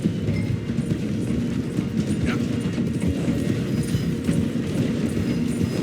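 A steam train in Red Dead Redemption 2 rolls steadily as it slows through a station, giving a continuous low rumble with rhythmic clatter, loud and close throughout, with a brief spoken word over it.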